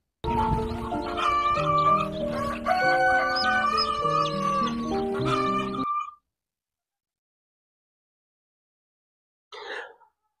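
A hen squawks and clucks agitatedly for several seconds as she is picked up, then silence, followed by one brief cluck.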